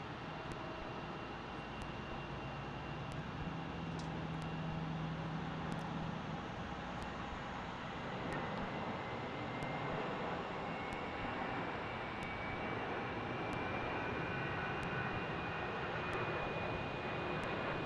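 A KLM airliner bound for Amsterdam takes off at a distance, a steady broad jet roar that holds evenly throughout without voices.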